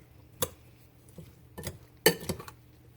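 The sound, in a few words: stirring corn and black bean salsa in a bowl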